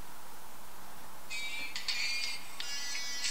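A reggae ringtone previews on an Android smartphone, entering after a moment of near silence as a thin, bright melody with short repeated phrases, played quietly and heard alone.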